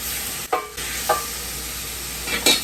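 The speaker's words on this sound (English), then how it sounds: "First thing we're going to add to our skillet is going to be our ground beef." 80-20 ground beef sizzles and fries in a skillet, a steady close hiss broken by a few short stirring scrapes, with no talking.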